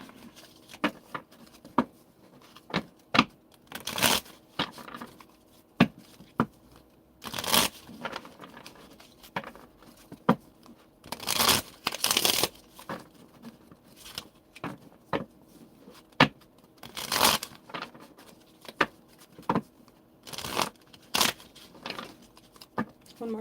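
Tarot cards are shuffled in irregular bursts, crisp riffling and sliding swishes close by, separated by short quiet pauses.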